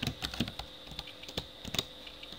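Someone types a file name on a computer keyboard, a quiet, close run of irregular key clicks with short pauses between taps.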